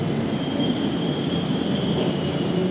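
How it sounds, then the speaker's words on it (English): Steady rumbling drone of the Bairnsdale train in Victoria, Australia, rolling along rails, heard from inside a carriage, with a thin constant whine and no talking. "So we're on the Bairnsdale train."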